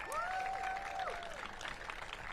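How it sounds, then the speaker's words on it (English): A crowd at the opening ceremony for the Frederick Douglass Memorial Bridge applauds the bridge workers with a brief burst of clapping and a thin whistle-like tone rising above it. "Give them another big round of applause."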